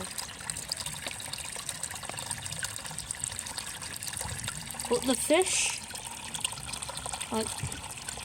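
Steady rushing water, like a waterfall, fills the background while a person speaks briefly over it.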